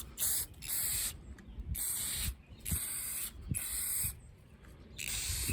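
Black aerosol spray paint misting onto a part from a 1964 Pontiac Tempest, a run of close, sharp hissing bursts of about a second each with brief gaps between them.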